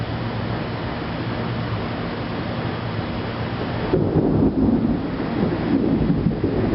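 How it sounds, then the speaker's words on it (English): Thunder from a severe thunderstorm in Gastonia, North Carolina, a loud rolling rumble alongside steady rain and some wind buffeting the microphone, swelling into a heavier, closer roll midway through. "Closer the storm gets, the closer the bolts are getting."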